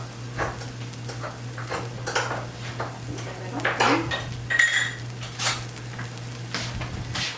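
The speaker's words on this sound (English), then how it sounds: "let me open my smoke paprika" Smoked paprika container being opened in a home kitchen, a handful of light clicks, taps and clinks of lid and tin over a steady low hum.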